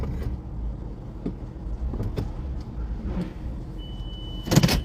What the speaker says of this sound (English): I'm just trying to get my car in position